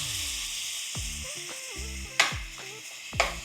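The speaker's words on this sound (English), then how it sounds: "Hit the pan with some oil, little bit of green seasoning, little bit of jerk seasoning, and a pound of lean ground beef." Lean ground beef fries in an oiled pan with green and jerk seasoning, a steady close hiss of sizzling broken by two sharp clinks of a utensil against the pan over a soft musical background.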